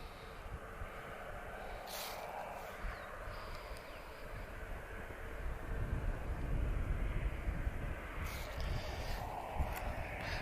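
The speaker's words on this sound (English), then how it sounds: "the A220 is definitely on the move because they make a very distinctive howling sound" An Airbus A220 jet at Lisbon Airport spools up with a distant, rising engine howl that swells over the clip, with faint background rumble and a few brief knocks.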